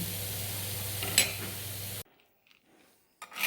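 Stirring boondi in a hot pan with a faint sizzle, then it drops to near silence with a few soft scrapes and clinks as the heat is turned off.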